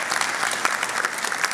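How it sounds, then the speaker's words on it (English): A conference crowd applauds the event speakers with steady, dense, moderately loud clapping throughout. "let's do kind of a round of applause for the speakers"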